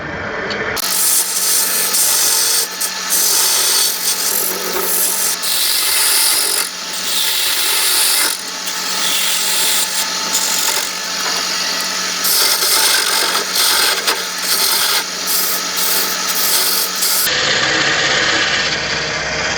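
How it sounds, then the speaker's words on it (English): A rotary diamond tool grinds continuously and loudly into wood while a vase is carved inside a cube, a steady buzzing rasp with small shifts in pitch as the bit digs in, then stopping near the end. "So I'll use my diamond tool to go in here and establish what's the very base."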